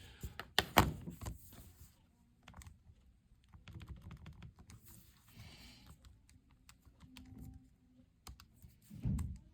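Buttons on a calculator are pressed one after another in short irregular bursts, close with soft thumps and faint handling noise, and no talk.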